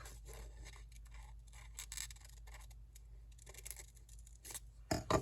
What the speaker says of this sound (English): I think I'm going to fussy cut around her ear so I can tuck